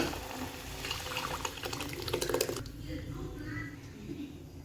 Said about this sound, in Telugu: ఇప్పుడు ఈ పులుసులోకి పప్పును వేసిద్దాం.